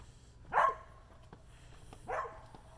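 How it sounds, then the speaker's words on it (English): Two sharp dog barks a second and a half apart, moderately loud with a bit of distance, over a quiet background. "my dog's out there barking at the cat"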